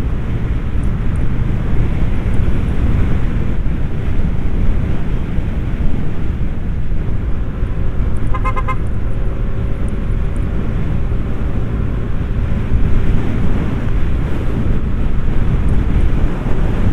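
Strong wind buffets the microphone with a constant low roaring rumble throughout on a motorcycle ride along Andaya Highway in Bicol, Philippines, a faint distant engine drone rising briefly partway through.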